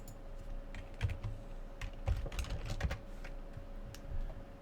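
Steady typing on a computer keyboard while building a game's user interface widget, clusters of close, crisp key clicks with a few heavier thumps, no talking.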